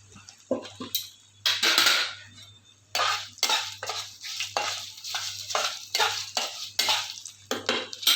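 Spices being mixed into chavanu snack in a pan: repeated close scraping strokes of a spoon against metal with light clinks, in a brisk, uneven rhythm and without talking.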